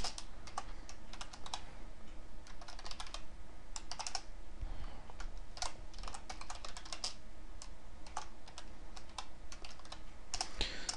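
Steady typing on a computer keyboard while writing Qt code, with quick irregular bursts of key clicks and short pauses, close and clear throughout with no talk.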